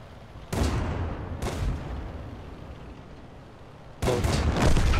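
Three booming tank cannon shots from World of Tanks with long rumbling tails, the first two about a second apart and the last after a pause, loud and close.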